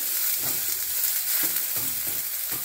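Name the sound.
onions sizzling in pan with curry leaves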